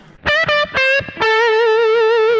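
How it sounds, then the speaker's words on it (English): Electric guitar notes through a Sonicake Sonicbar Twiggy Blues pedal, two short plucks then a sustained ringing note, with a faint reverb tail; no voices. "A very subtle little bit of reverb there."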